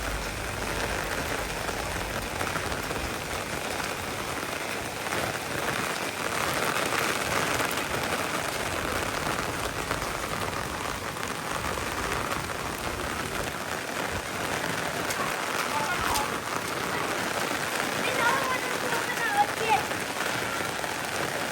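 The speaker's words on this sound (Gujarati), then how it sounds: "વરસાદ ચાલુ થઈ ગયો છે સાંજે." Evening rain falls steadily on surfaces in a town, a dense continuous hiss of drops with no break, moderately loud and even throughout, with faint voices underneath.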